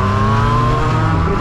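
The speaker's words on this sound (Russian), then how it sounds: "У него, правда, выхлоп не оригинальный." A motorcycle fitted with a non-original aftermarket exhaust revs loudly and close by in Moscow traffic, its engine note holding a strong, steady drone with a slight pitch rise near the end.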